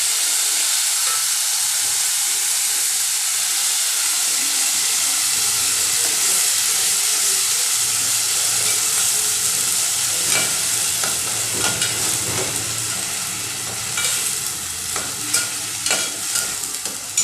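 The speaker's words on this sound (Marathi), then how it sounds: "कांद्याची पेस्ट तेल सुटोसर परतून घेऊया" Onion paste with curry leaves sautés in oil in a pan for puri bhaji, giving a steady close sizzle and hiss, with scraping stirs and clicks growing busier toward the end.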